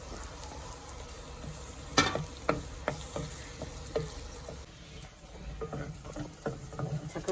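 Prawns and brinjal frying in a new clay pot make a soft sizzle broken by sharp clacks and taps from stirring, with clusters of crackles toward the end.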